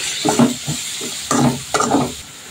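Whole garam masala with garlic and ginger paste frying in a pan for a chicken dish, a steady sizzle broken by a few louder bursts of stirring and scraping, close and without talk.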